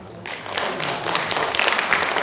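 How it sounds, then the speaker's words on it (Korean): A forum audience in Washington, D.C. claps on cue after the organizers are announced, a short burst of applause that swells from near silence into a dense patter of many hands. "이 정도에서 박수 한번 맞춰주십니까?"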